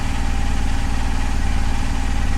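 A Honda SilverWing 600 scooter idles close by at about 1050 to 1100 RPM, its engine giving a steady, even, continuous drone.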